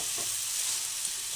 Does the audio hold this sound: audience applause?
no